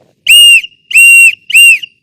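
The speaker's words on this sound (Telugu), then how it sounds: "ఫస్ట్ విజిల్ వేయాలి. విజిల్ వేస్తే అందరూ అబ్బాయిలు లేగాలి." A hostel wake-up whistle, blown at dawn to rouse boys for running, gives three short, loud, shrill blasts in quick succession with brief silences between, alone and close by.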